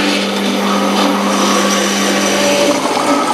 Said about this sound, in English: The oil is being pumped back up through the carbon pad and will stop automatically once the bottom tank is empty.